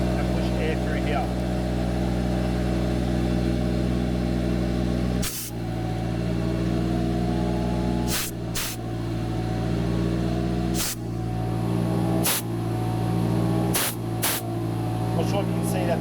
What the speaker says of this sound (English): as I blocked off that hole there with my finger, ran compressed air through here